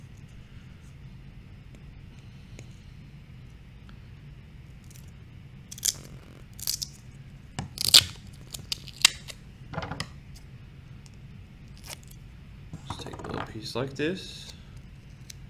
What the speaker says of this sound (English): I like to cut it again right down the middle and cut it again, get it just kind of the size you need it